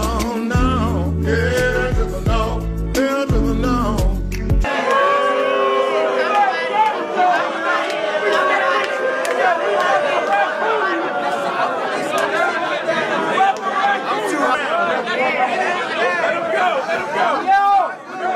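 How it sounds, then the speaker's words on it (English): Battle rap event crowd reacting loudly, a dense roar of voices and babble that fills the space continuously for over twelve seconds after a short burst of music. "the crowd starts booing"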